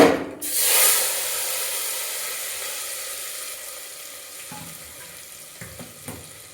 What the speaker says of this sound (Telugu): పోపు ఇందులో వేసుకుందాం.